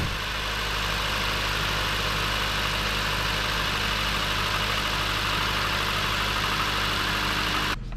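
A long-idle 2008 Dodge Caliber engine runs steadily at idle, a dense, loud, continuous rumble with a faint knocking texture, close by and without speech, cutting off abruptly at the end.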